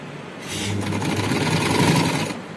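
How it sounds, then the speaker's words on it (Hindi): A sewing machine stitches a strip of a tulip shalwar in one continuous, rapid run of close mechanical whirring that starts, holds steady for about two seconds and then stops. "ये पट्टी की सिलाई कंप्लीट होने वाली है।"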